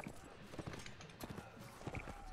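Horse hooves clip-clopping on the battlefield in Mount & Blade: Warband, a faint, uneven run of hoofbeats with a few sharper accents mixed into quiet game background.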